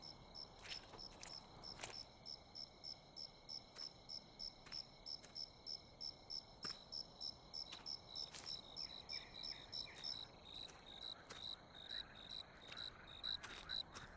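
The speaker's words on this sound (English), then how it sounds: "Scared of a frog." A frog croaks in a rhythmic series of short pulses in the horror game The Cursed Forest. Steady high cricket chirps run underneath, and the whole scene is faint.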